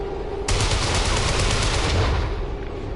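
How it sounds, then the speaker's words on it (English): A rapid burst of automatic gunfire erupts in XCOM 2, dense, loud and sustained for a few seconds after a brief quieter moment, then tapering slightly at the end. "The shockwave of that explosion reverberated throughout most of the city."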